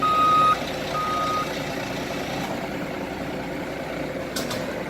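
Steady electronic reversing beeps from a truck put into reverse during a cab and hood inspection, two long tones sounding over a low idling engine rumble, with a faint clatter near the end.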